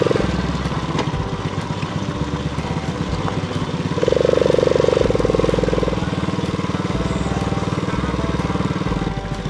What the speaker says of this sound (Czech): Musím si opravit motorku